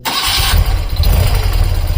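A BMW Airhead motorcycle engine cranks and catches, then settles into a loud, close, rumbling idle with slight unevenness.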